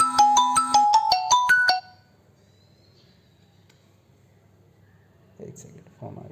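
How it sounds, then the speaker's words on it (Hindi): A phone ringtone plays a loud melodic run of tones for about two seconds during a class session, then stops, leaving quiet room tone and brief voices toward the end. "एक सेकेंड फोन आ गया।"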